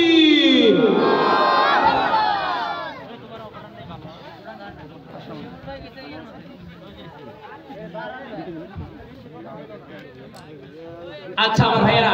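A large crowd at a religious gathering answers with a loud, sustained collective takbir shout that fades into a general murmur of chatter, with another brief burst of noise at the end.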